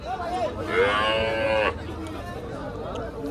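A cow lowing at Tepakhola cattle market, a single long moo rising and falling for about a second, close and loud, with crowd chatter and market noise around it.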